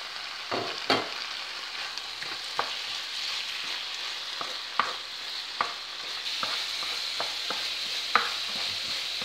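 Onion and pepper fry in a pan for Moroccan briouat filling, giving a continuous close sizzle broken by scattered sharp clicks and scrapes of stirring, with no voices.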